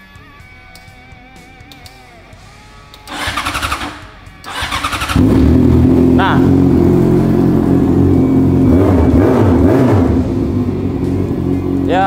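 A fuel-injected Yamaha FZ 600 four-cylinder motorcycle cranks briefly, catches on the second try and settles into a loud, steady idle with some revving, close up, with a short spoken word early on.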